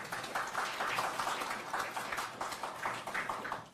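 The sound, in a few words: audience applause for introduced guest at public hearing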